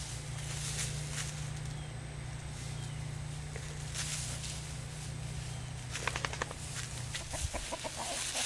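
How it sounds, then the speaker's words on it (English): Backyard chickens cluck and murmur steadily while a rooster watches over the hens, a low constant hum beneath, with a few sharper scratches or steps and closer clucks toward the end. "The chickens are enjoying their day out."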